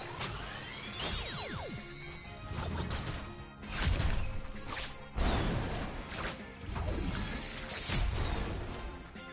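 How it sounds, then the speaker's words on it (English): Grendizer's Anti-gravity storm attack in the PS5 Grendizer game: sweeping whooshing tones give way to a series of loud repeated crashing blasts and rumbles, dense and continuous throughout. "Anti-gravity storm!"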